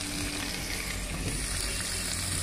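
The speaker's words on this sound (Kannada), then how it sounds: "ಈಗ ಒಂದು ಟೊಮೆಟೊವನ್ನು ಹಾಕೋಣ." Tomato goes into a hot pan for a pumpkin stir-fry, and oil sizzles in a dense, unbroken hiss heard close up without any voices.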